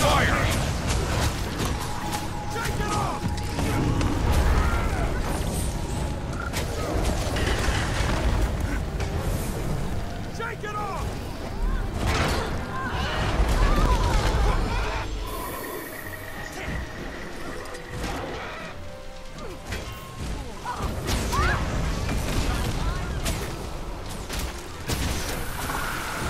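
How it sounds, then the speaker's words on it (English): Booming cannon fire and explosions from Guild Wars 2 PvP roll through a dense, noisy battle mix, with voices talking over the continuous rumble. "Cannons loaded. Ring the bell to signal them to fire."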